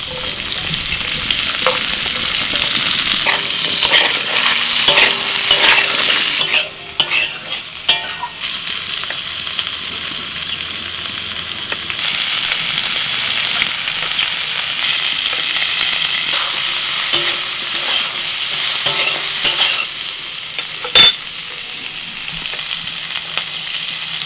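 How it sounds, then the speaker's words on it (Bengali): Cauliflower, capsicum, carrot and beans fry in a hot pan for a festive Puja meal, giving a loud, continuous sizzle broken by stirring and scraping throughout, with no talking. "ফুলকপিটা বেশ ভালো করে ভেজে নিয়েছি এবার আমি দিয়ে দিচ্ছি ক্যাপসিকাম গাজর আর বিনস"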